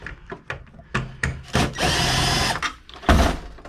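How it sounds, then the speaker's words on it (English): A power drill whirs in short bursts and one longer run while backing screws out of a bracket on an old computer, with clunks and handling noises between, close by. "I gotta get the screws off of this bracket"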